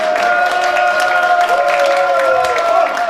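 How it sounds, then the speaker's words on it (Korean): Steady crowd applause from an audience at a Korean political event honoring a lawmaker, continuous and dense for the whole stretch, with a sustained tone running underneath. "큰 박수 부탁드립니다"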